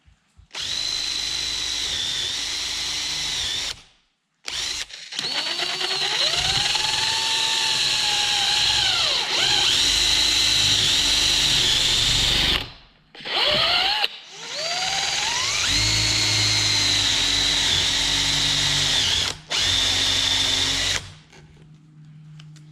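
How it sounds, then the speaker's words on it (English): A power drill whines close up in several long bursts drilling holes through wooden stair treads, its pitch rising and dipping as it bites into the wood, with brief pauses between runs. "Now we just have to drill our holes on through."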